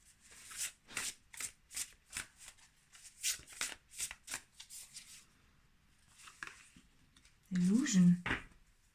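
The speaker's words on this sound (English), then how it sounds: "Today I'm shuffling the cards a bit longer" A deck of cards is shuffled in a quick run of crisp riffling bursts, pausing briefly before a final louder shuffle and a soft riffle near the end.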